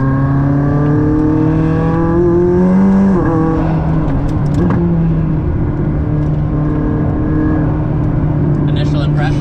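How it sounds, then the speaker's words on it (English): A McLaren sports car engine revs from inside the cabin, its droning tones rising and then dropping sharply, with a whir of turbo noise over the loud engine throughout. "Ooh, some turbo noises."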